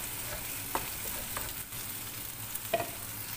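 Onions frying in a pan for chicken curry give a steady sizzle, with a few sharp crackles and spoon stirs near the middle and end. No one speaks.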